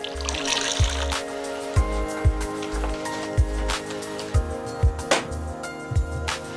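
Pounded kava root being mixed in water and squeezed through a cloth strainer in Fiji, giving trickling, dribbling liquid with regular soft splashes and low thumps roughly every half second, close and steady.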